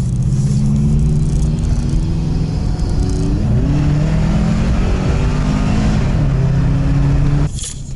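A Subaru Forester XT being driven off-road while turning around: its engine drones loud and close, rising and falling in pitch as the throttle changes, with rough rumbling from the ground underneath and a sudden clunk at the end.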